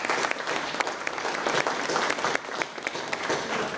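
A dinner audience at an arts council annual meeting claps together, a dense, lively round of applause that fills the room without pause.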